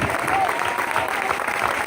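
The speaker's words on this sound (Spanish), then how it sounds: "Dale más fuerte ese aplauso." Sustained, loud applause from a church congregation praising God, a thick continuous patter of many clapping hands with voices and shouts mingled in.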